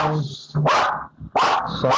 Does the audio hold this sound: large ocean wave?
no